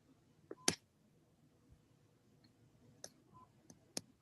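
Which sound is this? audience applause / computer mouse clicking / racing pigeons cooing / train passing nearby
computer mouse clicking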